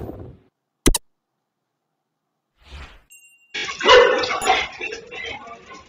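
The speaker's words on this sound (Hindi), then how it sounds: "काफी सारे कुत्ते जो होता है एक जानवर का पीछा कर रहे हैं" A pack of dogs barks while chasing an animal on Marine Drive in Patna at 4:45 in the morning, picked up by a CCTV camera. One sharp bark is followed by a pause, then a dense, noisy stretch of overlapping barking.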